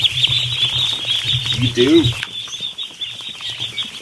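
Newly hatched ducklings peep in a steady high chorus close by indoors, with a person talking briefly over them before the peeping carries on alone.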